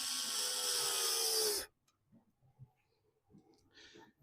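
An electric screwdriver drives screws to mount a servo motor on a model railway point, a loud steady whirring burst for about a second and a half, then stopping, followed by faint clicks and handling noises.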